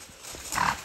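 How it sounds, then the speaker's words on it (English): Donkeys come across a pasture, a few soft hoof thuds on the ground followed by a brief louder scuffling burst near the end. "Here come the lazy donkey poodles."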